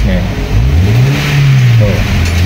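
A car engine running on a STAG gas injection system revs up and settles back during injector calibration, heard loud and close, with talking over the engine.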